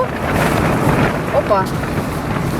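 Strong wind roars and buffets the microphone in a steady broadband rush, with faint water and movement sounds underneath.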